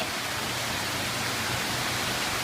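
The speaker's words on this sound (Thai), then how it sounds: "ฝนตกๆแบบเนี้ย" Steady rain falls in a dense, even hiss that fills the whole clip without pause, loud and close and with no voices.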